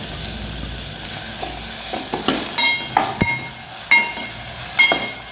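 Tomatoes drop into browned onions frying in a pan for a green chilli varan, giving a continuous sizzle punctuated by several distinct spoon scrapes and clinks as the mixture is stirred.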